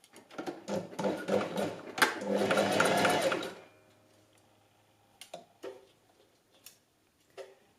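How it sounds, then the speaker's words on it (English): A domestic sewing machine running a zigzag stitch on stretched elastic, a fast close whirring clatter lasting about three seconds, followed by a few isolated clicks and taps while a person talks. "I'm just using the same zigzag stitch and size that I did for the outside."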